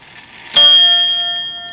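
A single chime struck on the strike side of a wag-on-the-wall clock rings out alone, bright and near, its clear tones slowly fading over the following second.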